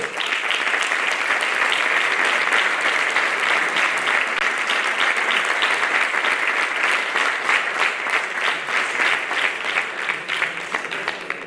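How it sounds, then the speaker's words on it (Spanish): A hall full of people gives sustained, loud applause at a Galician mountaineering federation award gala after an alpinism prize is presented. The dense clapping holds steady for over ten seconds and thins slightly near the end. "imos continuar aplaudindo"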